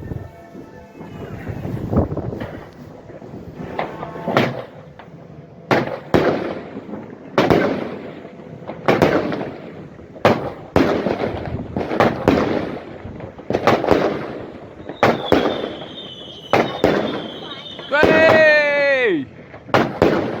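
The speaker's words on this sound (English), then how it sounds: "let's fire this off and see how the destroyer performs from Gemstone Fireworks" A Gemstone Fireworks Destroyer cake fires at a New Year celebration, with loud sharp explosions in a steady volley every second or so, whistling and crackling effects near the end, and voices in the background.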